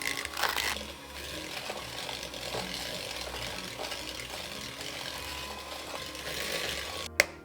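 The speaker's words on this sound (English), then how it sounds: "Get in with your hand mixer and mix until light and fluffy." An electric hand mixer beats butter with light brown and caster sugar, giving a steady whirring and rattling drone throughout, ending with a brief sharp clack.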